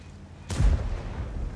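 A single heavy cannon blast from a Leopard 1 tank in a video game booms sharply, followed by a low rumbling decay and steady engine drone.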